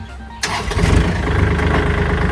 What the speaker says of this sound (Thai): เดี๋ยวเราลองมาสตาร์ทเครื่องยนต์